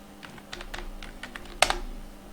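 Quick run of keystrokes on a computer keyboard as a URL path is typed, ending in a sharper, louder key press like Enter, close and alone with a faint hum behind.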